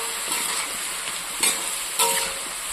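Bottle gourd and crab sizzle in a pan with green chillies and salt, a constant close frying hiss broken by two sharp stirring knocks near the end, with no voices.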